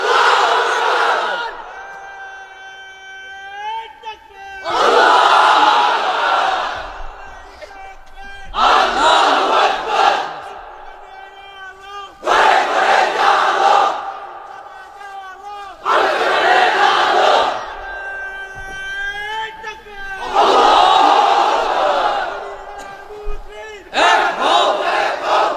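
A vast crowd of unmarried men at a huge religious gathering at the Akij Foundation roars "Lillahi Takbir" in about six loud, sustained chanted bursts, each separated by a short silent pause.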